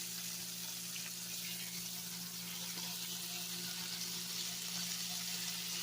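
Lamb chops braising in a pan on a home stove, giving a continuous steady sizzle with a low constant hum behind it, moderately quiet and unbroken, with no voices.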